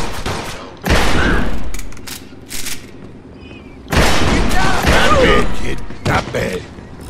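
Loud bursts of gunfire in Mafia 2, with two long, dense volleys of rapid shots and a few single cracks in between, close and harsh, as voices shout during the shootout.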